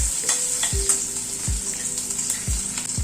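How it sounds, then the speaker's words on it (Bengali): Garlic and green chili tempering fries in oil in a pan, giving a steady bright sizzle with a few soft scrapes from stirring at regular intervals, close and alone with no voices. "ভালো করে ফোড়নটাকে একটু ভেজে নিচ্ছি।"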